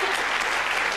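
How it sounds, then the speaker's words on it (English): A brief burst of dense clapping from a television game-show studio audience, steady and fairly loud for about a second. "a sympathetic round of applause for someone making a debut on the programme"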